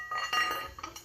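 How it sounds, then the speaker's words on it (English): Engine bolts are dropped into place during a 4BT Cummins engine mock-up build, giving a short pair of bright metallic clinks up close. "Get these bolts thrown in."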